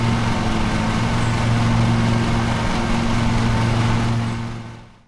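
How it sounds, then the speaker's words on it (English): Steady lawn mower engine drone from a lawn mowing simulator video game, a constant loud hum with strong low tones that holds evenly throughout and fades out at the very end, with no talking. "mostly just the ASMR-like sound of the usual mower engines or the quiet hum of the eco-electric mower engines"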